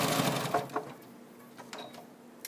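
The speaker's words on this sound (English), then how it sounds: "So I'm going to sew all the way through." A home sewing machine stitches through quilted binding on a baby buggy project, a faint mechanical whir that fades quickly into quiet room tone with a few soft handling taps.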